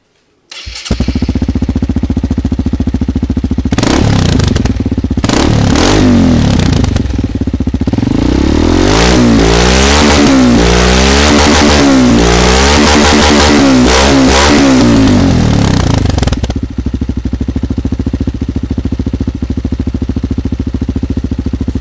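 A motorcycle fitted with a Norifumi Noctus T3 exhaust idles close by and loud, then revs repeatedly in rising and falling bursts before settling back to a steady idle, with no talk over it.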